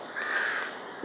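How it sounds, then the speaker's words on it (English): A single harsh, drawn-out caw from a rook, loud and fairly close, with faint background noise, in a vegetable garden. "these rooks have been at it. Those are the birds that you hear in the background."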